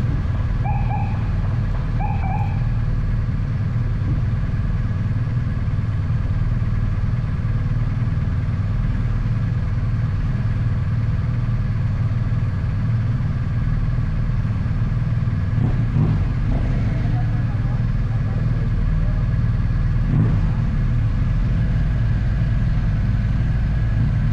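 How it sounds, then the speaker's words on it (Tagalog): A motorcycle engine runs steadily and loud throughout a ride toward Digos, a continuous low drone with light wind rush and no talking. "First time din ako ko karon nga magmotor padulong sa Digos"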